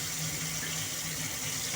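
Tap water running steadily into a sink or basin to soak choi sum in a Hong Kong kitchen, a continuous close splashing flow with no talk.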